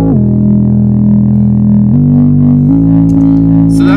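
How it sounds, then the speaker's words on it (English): A house-style bass pad synth patch built in NI Massive plays sustained, steady tones that shift pitch twice, loud and close with no voices. "I'm going to show you kind of how to make a sort of bass pad."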